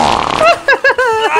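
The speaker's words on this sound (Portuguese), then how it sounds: "Raj, o Bit tá peidando já, olha aí, escuta." A baby character in the video game Who's Your Daddy 2 lets out a quick rippling fart, followed by a few short squeaky, voice-like sputters, close and loud.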